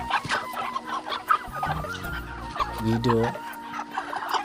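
Young broiler chickens about a month old cluck and chirp repeatedly in a poultry shed, close and fairly loud, while a person talks over them.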